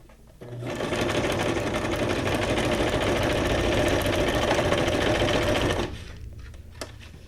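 A sewing machine stitches a junk journal signature in one steady, loud, continuous whirring run lasting about five seconds, then stops, leaving faint room noise and a small click.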